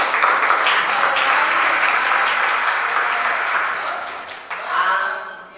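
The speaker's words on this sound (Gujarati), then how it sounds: "આપણે દિલીપભાઈને પણ તાળીઓથી વધાવી લઈએ." A live audience at a Gujarati school function for visually impaired students claps to welcome Dilipbhai, loud sustained applause that tapers off before a brief swell of clapping near the end.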